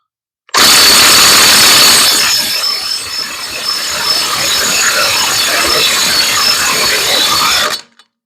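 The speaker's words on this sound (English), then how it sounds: "Presumably these lug nuts aren't going to come off with the battery impact" Battery impact wrench straining against lug nuts on a 2010 Toyota Yaris, a loud, close, continuous rattling hammer and whir for about seven seconds before cutting off.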